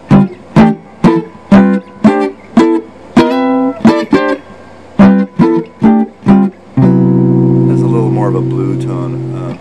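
Guitar plays a run of chords with flatted fifths and suspended fourths, a dozen or so short, choppy strums close up, ending on one long ringing chord.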